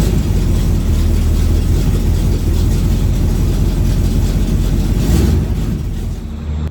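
A 1979 Chevrolet El Camino with newly installed shocks is out on a test drive, its engine giving a loud, steady low drone with constant road rumble and no voices.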